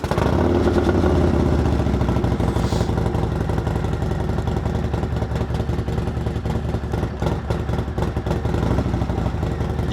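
A Perewitz custom Harley-Davidson Softail Slim, an older-style Softail, runs loud and close, its engine rumbling steadily with a throbbing low-end pulse after firing up, no talk over it.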